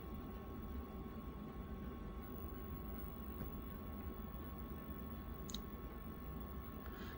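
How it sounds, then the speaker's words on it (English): A Tandy 1000HX computer's noisy cooling fan whirs in a steady, close, broadband drone with a faint tonal hum, continuous for the whole stretch with no talking. "This thing has the noisiest fan of any computer I've ever had."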